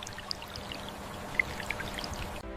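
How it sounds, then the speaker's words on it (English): Water trickles and drips through drip irrigation lines laid in California strawberry beds, a faint, steady watery flow with scattered small droplet ticks that cuts off abruptly at the end. "Drip irrigation lines are laid to deliver water and nutrients directly to each plant's roots."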